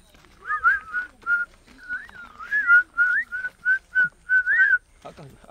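A pet talking parrot whistles outdoors at a sunflower festival in Taebaek, giving about a dozen short, warbling, up-and-down notes in a quick, uneven series, close and clear.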